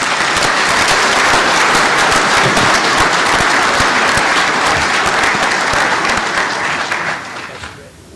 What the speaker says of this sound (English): Let's give these educators one more round of applause.